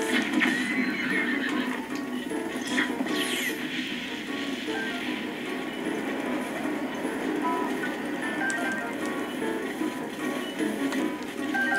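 Horses neigh and whinny in The Legend of Zelda: Breath of the Wild, with hooves clip-clopping amid game ambience; the calls are fairly close and fill the whole stretch without a break.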